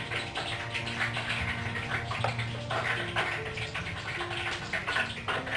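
Water pours in a continuous, splashing stream into a bowl of flour and cornflour for Manchurian batter, with some low background hum beneath the flow.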